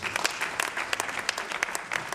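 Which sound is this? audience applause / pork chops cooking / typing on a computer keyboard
audience applause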